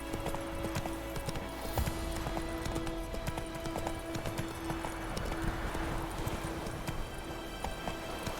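Horse hooves clip-clop steadily as a rider travels in The Witcher 3, a quick even rhythm of hoof strikes over an ambient game soundscape, continuous and moderately loud with no talk.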